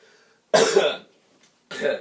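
Two coughs, close and fairly loud, separated by a short pause.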